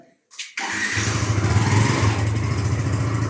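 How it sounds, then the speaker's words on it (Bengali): Yamaha R15 motorcycle engine starting after a brief clatter, then idling and revving steadily at close range, loud and continuous. "এখন আমাদের R15 বের করা হবে, আমার ড্রাইভার সে বের করবে।"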